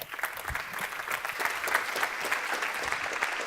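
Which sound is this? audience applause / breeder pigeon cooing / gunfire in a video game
audience applause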